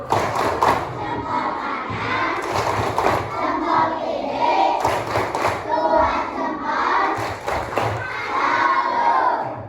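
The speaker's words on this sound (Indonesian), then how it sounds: "Coba kita tepuk salut bareng-bareng." A class of grade 4 and 5 primary schoolchildren chanting together in loud unison while clapping in rhythmic bursts, their voices shouting the call-and-response chant close by in a classroom.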